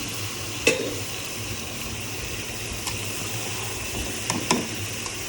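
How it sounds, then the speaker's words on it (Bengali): Potatoes go into snakehead fish bhuna frying in a pan, a steady close sizzle with a few sharp spatula scrapes and knocks as the mixture is stirred, with no talking. "দিয়ে দিচ্ছি আলুটাকে মাছের সাথে একসাথে।"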